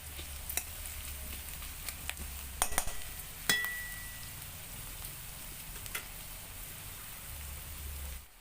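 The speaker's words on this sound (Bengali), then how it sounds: "পেঁয়াজটা ভাজা হয়ে গেছে," Onions fry lightly in a pan with a soft, steady sizzle throughout, broken by a few sharp clinks and scrapes of stirring, quiet and close.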